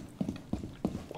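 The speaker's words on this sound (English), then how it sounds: "It's a fucking horsey!" Horse hooves clip-clop in the video game Rainbow Six Siege, a quick, close run of evenly paced hoofbeats on a hard surface, about four strikes in just over a second.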